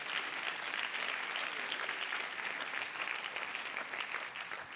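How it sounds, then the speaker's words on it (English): An audience claps steadily through a campus spotlight talk at K-State, a dense, even wash of applause held at a constant level from start to finish, with no voices standing out. "You guys should be clapping."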